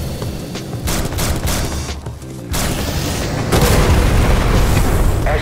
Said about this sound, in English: Aleph reacts poorly with bullets, but the explosion will only damage the enemies of whoever shot it